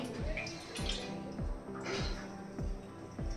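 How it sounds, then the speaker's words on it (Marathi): Wet dough lifted out of a bowl of water, dripping and splashing in a repeated rhythm of small plops and trickles, close and fairly quiet. "आता हे पाण्यातून काढून घेते"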